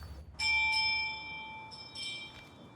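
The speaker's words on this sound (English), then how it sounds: "The bell ringing?" A bell in the video game Crusader Kings III rings out clearly with a sustained metallic tone, followed by a second, softer strike that fades away. No one speaks.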